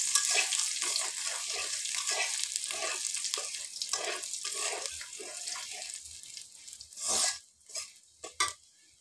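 Chopped onion and bay leaf frying in mustard oil in a wok, a steady broadband sizzle with a few louder crackling bursts toward the end, close and alone without voices.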